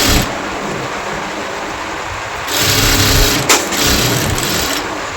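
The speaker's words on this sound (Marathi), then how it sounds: "आता आपल्याला इथे शिलाई लावून घ्यायची आहे संपूर्ण" A sewing machine runs steadily, stitching lace onto a fabric one-piece dress, its motor whirring loud and continuous with a brief shift in pitch partway through.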